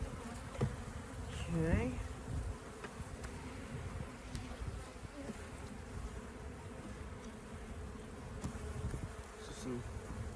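Honey bees buzzing around an opened hive during a check of a walk-away split, a dense continuous drone with individual bees whining past close to the mic, plus brief handling noises and one short spoken word.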